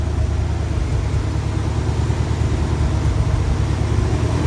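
A junkyard motor runs steadily in an off-road buggy under construction, a loud, continuous low rumble at close range with no breaks or talk.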